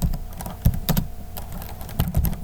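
Keystrokes on a computer keyboard come in short irregular bursts, fairly close and moderately loud, while CSS code for a landing page is typed. No one speaks.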